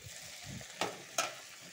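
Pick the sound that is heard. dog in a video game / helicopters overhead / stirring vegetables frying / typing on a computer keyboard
stirring vegetables frying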